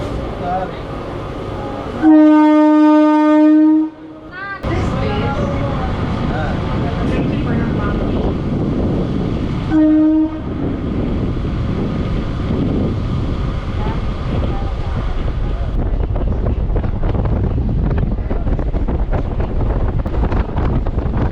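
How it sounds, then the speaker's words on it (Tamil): An electric train rolling slowly on the Tiruttani to Chennai Central line, a loud steady rumble of wheels and wind with two sustained horn blasts, one long near the start and a shorter one later. "என்னோட எலக்ட்ரிக் ட்ரெயின் ஸ்லோவாக தான் போயிட்டுருக்கு"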